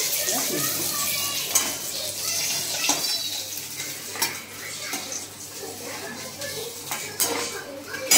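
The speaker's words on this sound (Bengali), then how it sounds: "এই রেসিপিতে না মাছগুলো বেশ কড়া করে ভাজতে হবে। লাল লাল করে ভেজে নিচ্ছি।" Katla fish pieces fry in a pan with steady sizzle and clinking utensil and stirring sounds, a voice talking over the kitchen noise.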